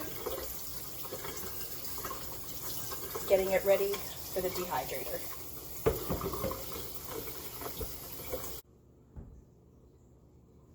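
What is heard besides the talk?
rinsing pasta under cold tap water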